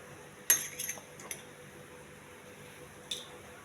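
Chili powder, turmeric and salt get mixed for okra curry with a few light metallic clinks and scrapes of a spoon against a pot, faint and scattered over a quiet background.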